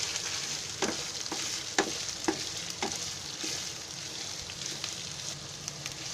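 Cabbage tossed into a hot pan with fried chicken for homemade chicken fried rice, a steady sizzle with several sharp stirring scrapes of the spatula at irregular intervals.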